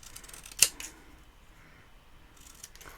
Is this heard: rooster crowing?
no